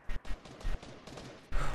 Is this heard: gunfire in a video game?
yes